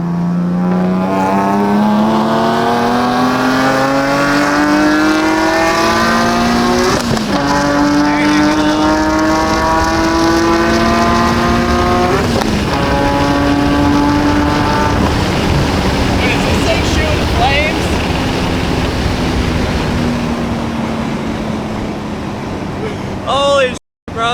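A supercharged Nissan 370Z Nismo engine revs hard while driving, its pitch rising through gears with shifts between pulls, loud and close from inside the car, ending abruptly.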